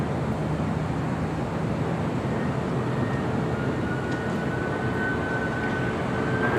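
A heavy Boeing 747 rolls for takeoff on runway 25 left at LAX, a loud, broad, steady jet roar with a faint whine drifting upward, sustained without talk.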